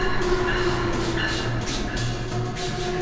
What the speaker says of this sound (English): This is an Amtrak train.